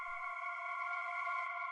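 A sustained synth pad chord with chorus and reverb in an industrial techno production, held as a smooth, steady tone before cutting off abruptly.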